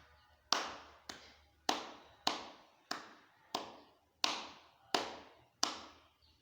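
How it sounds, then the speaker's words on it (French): A coin purse set down again and again makes about nine sharp, evenly spaced taps, each a crisp close thud that fades quickly, with nothing else sounding between them. "Je dépose le porte-monnaie."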